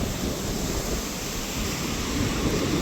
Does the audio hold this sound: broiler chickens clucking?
no